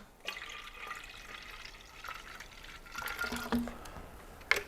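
Apple cider vinegar and apple juice poured into a container for slow-smoked pork ribs; a faint, splashing liquid trickle with soft drips and a few small clinks, close by.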